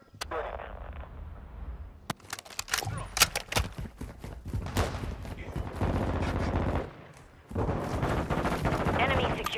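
Rapid bursts of automatic gunfire and single shots in a Call of Duty: Modern Warfare II Domination match on the Mercado de las Almas map, loud and dense, mixed with in-game radio voice callouts.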